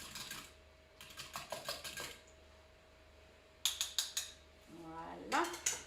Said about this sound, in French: Je vais bien mélanger le blanc et le jaune.